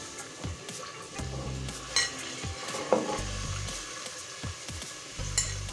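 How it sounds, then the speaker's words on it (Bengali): Chopped vegetables sizzle with chicken in a hot pan, a steady quiet fry broken by a few scrapes and clinks of a stirring spoon. "দিয়ে আর একটু ভেজে ভেজে নেব।"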